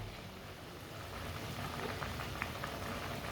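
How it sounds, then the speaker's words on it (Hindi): Water boils in a pot on a stove while turnip curry is being cooked, a steady close bubbling hiss that grows slightly louder, with no voices. "आप दे सकते हैं पानी को बॉयल आ चुका है"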